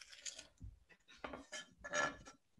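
A knife chops a bell pepper on a cutting board in a few irregular, light knocks and scrapes, close and quiet, with brief pauses between cuts.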